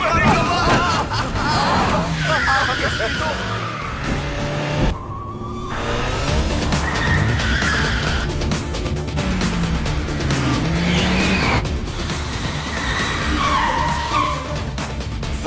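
A car being driven recklessly, with a brief tire screech and engine noise mixed into busy street commotion and hubbub, while people talk and shout over it throughout.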